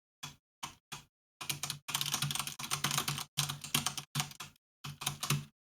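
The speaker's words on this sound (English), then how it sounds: "Adjust my keyboard here a little bit." Rapid bursts of keystrokes on a computer keyboard, clattering in short irregular clusters with brief pauses between, fairly close and clear, with no talking.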